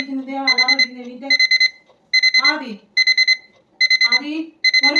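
A loud, near alarm clock beeps in quick repeated groups of tones, with a voice talking between and over the bursts.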